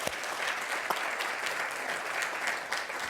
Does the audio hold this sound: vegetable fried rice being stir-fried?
no